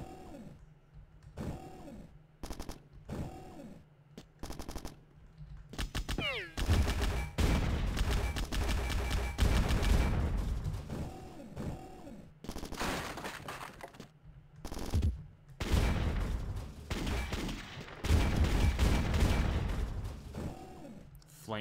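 Bursts of automatic gunfire in the shooter game Bad Bots, rapid volleys firing again and again across the stretch with short gaps between them, loud and close, with someone talking between and over the shots.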